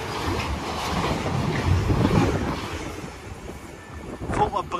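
Strong, gusty wind buffets the microphone on a busy railway platform at Milton Keynes Central, a rough, roaring rush that swells and fades with each gust, with brief voice-like fragments mixed in near the end.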